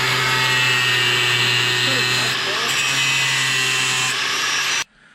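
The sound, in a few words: power tool trimming a Westin bumper on a Toyota Tacoma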